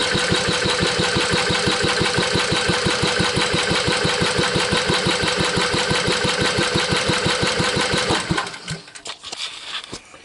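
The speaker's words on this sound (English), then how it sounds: "So let's do a quick compression test." An old Kohler engine on a three-wheel off-road hauler cranks over with the throttle wide open for a compression test, a fast rhythmic chugging drone, loud and close, that stops abruptly near the end.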